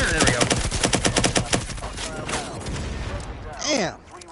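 Rapid automatic gunfire in the multiplayer shooter video game Firewall Zero Hour, with a fast loud burst up front that trails off into echoing shots and a brief whooshing effect.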